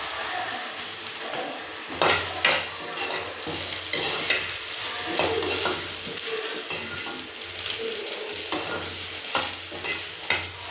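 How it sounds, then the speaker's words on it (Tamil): Toor dal and sliced okra sautéing in a pan for sambar, a steady close sizzle with repeated scraping stirs and clinks of the spoon against the pan, no talking. "இந்த பாருங்க நல்லா வதங்குது."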